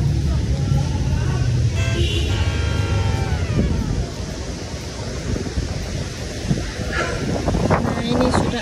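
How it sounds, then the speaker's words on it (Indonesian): A strong wind blows outdoors as rain approaches, roaring steadily and buffeting the microphone throughout, with faint indistinct sounds beneath it. "ini sudah angin tuh kencang"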